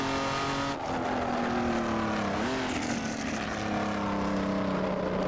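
A Jaguar XJ13 race car engine in the Assetto Corsa racing game holds a steady, loud, tonal whine that climbs and dips in pitch as it revs, with faint tyre noise beneath.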